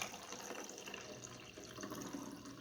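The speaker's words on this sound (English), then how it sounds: "I'm going to go ahead and fill this measuring cup up to 1 cup" Food coloring water pours steadily into a measuring cup, a soft continuous trickle and splash filling it toward one cup, fairly faint and close, with no talking.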